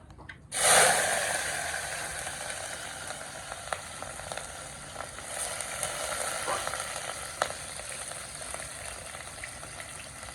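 Asafoetida and onion hit hot oil with a sudden loud sizzle that settles into a steady frying hiss, close by, with a few faint clicks over the next several seconds.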